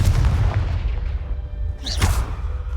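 Confringo fire-blast spell cast in Hogwarts Legacy: a heavy, booming low rumble fills the clip, with a brief sharp whooshing burst near the end, no talk.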